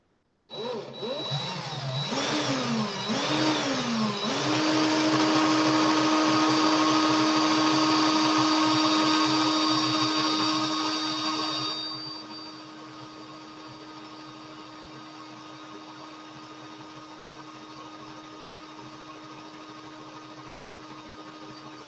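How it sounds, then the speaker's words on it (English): A power drill whirs steadily and loudly, its motor pitch climbing at first, then easing to a lower, quieter hum that keeps running to the end. "I think I'm going to speed up the drill to get the rest of this done quicker."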